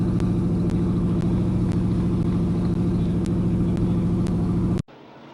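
A race car engine at Midvale Speedway, a steady loud, droning roar holding for several seconds before cutting off abruptly into quieter background noise.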